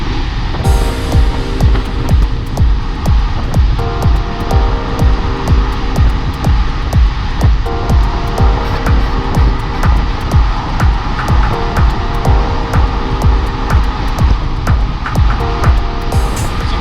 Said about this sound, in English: The wind noise is going to get a little crazy